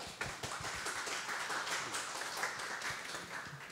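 A conference audience at a game-design forum applauding to welcome a speaker, steady dense clapping from many hands throughout, moderately loud and without talk.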